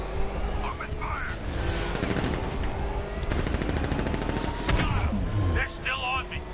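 Rapid gunfire in the game Batman: Arkham Knight, dense bursts of automatic shots with heavy impacts and booms, loud and continuous, with voices talking over the shooting.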